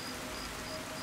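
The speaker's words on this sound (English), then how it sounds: "This rain is really loud, so it's not hard to hear." Rain pouring in the video game Fallout (Tale of Two Wastelands): a loud, unbroken hiss of a heavy downpour, with a faint thin insect-like tone under it and no talking.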